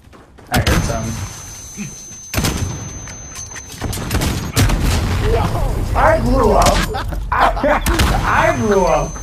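Call of Duty multiplayer explosions and sharp gunshot-like blasts go off in several loud bursts, with players talking over and between the booms.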